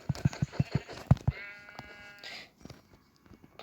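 A quick run of short bleats from a few Minecraft sheep, followed by a brief synthetic chime and quiet.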